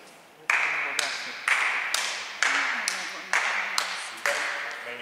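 Sharp hand claps at a steady walking rhythm, about eight over five seconds, close and loud in an indoor training hall, with people speaking faintly in the background.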